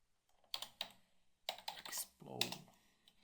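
Computer keyboard keys tapped in several short bursts during design software work, with clicks clustered around a few keystrokes and a longer run near the end, close and fairly quiet.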